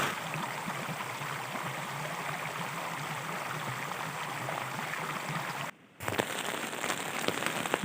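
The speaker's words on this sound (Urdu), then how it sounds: "ابھی پھر دوبارہ صبح بارش شروع ہو گئی ہے" Steady rain drums on a tent at a bushcraft campsite in Pakistan, a dense close patter that cuts out briefly near six seconds and then resumes slightly louder.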